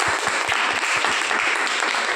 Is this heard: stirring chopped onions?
no